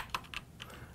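Quick light keystrokes on a computer keyboard while entering a router address, four soft separate clicks in about a second, quiet and close, no talking.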